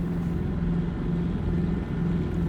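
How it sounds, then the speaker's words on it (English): Schweizer S300 helicopter engine in the X-Plane 12 flight simulator, a steady, moderately loud drone with a faint rhythmic pulsing hum, running alone without talk. "After a while you will know when RPM is getting high or low just by the sound of the engine."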